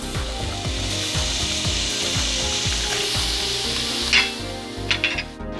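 Quarter cup of onions sizzling in a pan for a low carb chicken lemon zucchini noodle dinner, a steady bright frying hiss with repeated rhythmic scraping or stirring strokes underneath and a few sharper clatters near the end.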